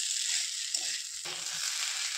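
Katla fish heads fry in hot oil with a steady broadband sizzle, broken by a couple of soft scraping stirs of a spatula in the pan.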